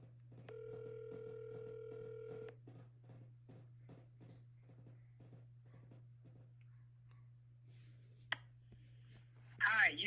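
A phone line carries a steady low hum, with a tone sounding for about two seconds at the start, then quiet line noise, a single click, and a voice speaking briefly at the end of a cold call.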